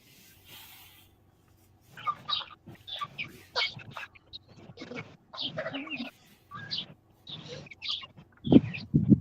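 Chickens in a backyard coop cluck and squawk in scattered bursts over low background noise, with occasional louder calls close by and a sharp flurry at the end.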